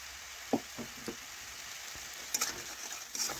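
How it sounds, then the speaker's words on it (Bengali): Salt and spices stir-fried in a pan for a fish-head mung dal, with a soft steady sizzle and a few scattered knocks and scrapes of a spatula against the pan. "লবণও ভালোভাবে নাড়াচাড়া করে মিশিয়ে মশলা বেশ কিছুক্ষণ ধরে একটু কষে নিচ্ছি"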